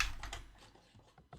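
A cat walks across a computer keyboard, setting off a quick scatter of soft key clicks and taps, with a brief cluster at the start and a few sharper clicks near the end, close and fairly quiet.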